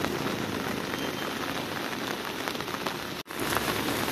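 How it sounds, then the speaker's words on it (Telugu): Steady, dense rain pattering on a surface in Gokarna, broken by a very brief cut near the end before the downpour continues. "as you can see it's raining"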